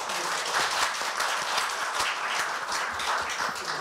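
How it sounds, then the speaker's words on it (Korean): An audience at a public-sector labor policy forum in South Korea applauds steadily, a dense wash of many hands clapping at once that continues without pause. "박수로 환영해 주십시오."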